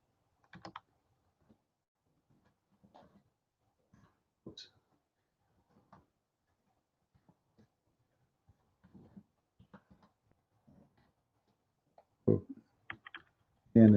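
Scattered keystrokes on a computer keyboard while someone hunts for Arabic letters, irregular soft taps with long pauses between, ending in a louder burst of clicks near the end, no talking.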